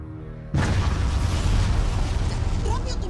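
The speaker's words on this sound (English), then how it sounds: "But suddenly, a large explosion happens." A sudden loud explosion bursts in after a brief quiet tone, then a sustained roaring rumble with debris-like crackle that fills the rest.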